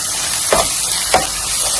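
Ginger-garlic paste and tomato puree stirred in a hot pan, with a steady sizzle throughout and two brief scraping swishes of the spoon, close and fairly loud, no voices.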